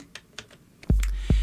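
Keys on a computer keyboard are pressed during an Ableton Live 10 session, a few light clicks followed by two louder, close key strikes.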